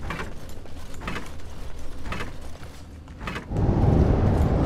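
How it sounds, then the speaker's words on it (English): Traps resetting in the video game Dragon Age: Origins make a run of clanking, ratcheting mechanical clicks in uneven bursts, then give way to a louder, denser grinding rumble. "That's all the sound of all the traps resetting."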